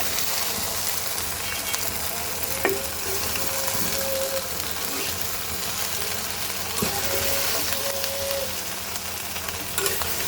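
A vegetable curry with salt and turmeric powder being mixed in a pan, with a steady low sizzle and occasional scraping stirs of a spoon throughout, with no voices.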